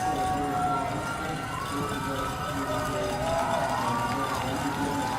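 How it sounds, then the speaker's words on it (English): Spectators cheering and shouting at the finish of a World Rowing Championships race, a sustained distant crowd roar with a commentator talking over it. "As you hear the crowd cheer on their teams, pushing for that final couple meters"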